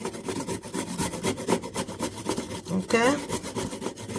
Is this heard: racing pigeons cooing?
no